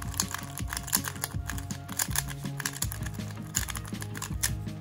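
A MOYU RS3M 2020 speed cube being turned rapidly, giving loud, clicky, irregular plastic clacks in quick bursts close by.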